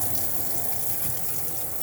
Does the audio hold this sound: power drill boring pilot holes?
no